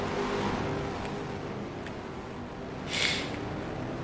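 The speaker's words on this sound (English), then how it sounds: "Car's now taking off" A race car pulls away from the pit lane at a fall road-course race, its engine a steady mid-distance drone with a brief louder hiss partway through, no voices present.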